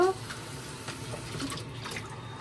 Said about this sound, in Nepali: अझ 1 कप पानी हाल्छु।